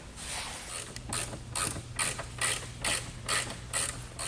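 Loose plastic trim pieces being pried out of a Volvo S70/V70/C70 dashboard, a steady run of rhythmic clicking, creaking snaps repeating about twice a second, close up with no talking.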